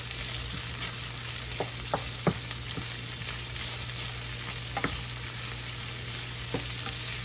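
Chicken fajita vegetables and onions fry in a pan with a steady close sizzle, broken by occasional scrapes and clicks from stirring, with no voices over it.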